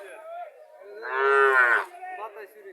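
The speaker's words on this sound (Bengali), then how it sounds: "বাছুরটা বকনা বাছুর।" A heifer calf at a cattle market gives one loud, drawn-out moo close by, with quieter lowing before and after.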